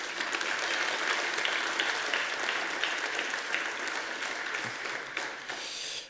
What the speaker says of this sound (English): I'd like to have a round of applause to this guy.